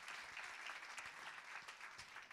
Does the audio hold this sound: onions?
no